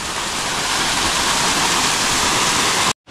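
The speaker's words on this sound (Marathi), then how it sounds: "हाच तो आपला दोधवण्याचा धबधबा, बारमाही धबधबा" The perennial Dhodhavane waterfall roars as a loud, steady, broadband rush of falling water in the forest, continuous and close, cutting off abruptly at the end.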